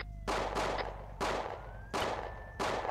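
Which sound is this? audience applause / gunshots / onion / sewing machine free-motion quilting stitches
gunshots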